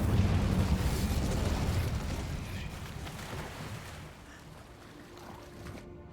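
Incendio fire spell cast in Hogwarts Legacy: a loud, roaring burst of flame that rushes out at once and then dies away over several seconds to a faint crackle.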